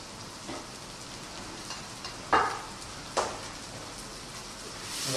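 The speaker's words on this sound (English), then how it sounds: "let that powder fry out with the onions, the garlic and the ginger" Onions, garlic and ginger frying with a couple of tablespoons of haldi powder, a steady soft sizzle with a few louder scrapes of stirring, no talking.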